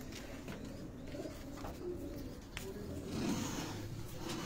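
Pigeons cooing in a rooftop loft, soft repeated throaty coos close by over a low background murmur.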